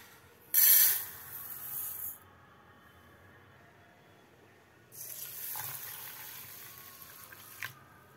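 Gobindobhog rice being rinsed under running water, with two splashy bursts of flow from a tap separated by a quiet gap and a small clink near the end, close and without voices.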